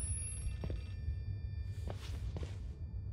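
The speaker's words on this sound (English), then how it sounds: "Is that a phone ring? Yes, it is." A telephone rings in the horror video game Outlast 2, with two faint ring bursts over a low rumbling ambience and a few soft thuds or footsteps.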